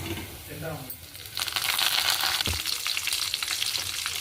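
Curry leaves dropped into hot tempering oil for gongura, a quiet sizzle that suddenly erupts into loud spattering crackle, with a brief clink of a utensil partway through.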